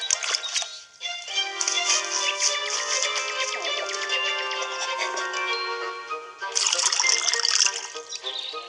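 Water pours in a steady ringing stream into a container, the tone rising as it fills, with a brief break partway through.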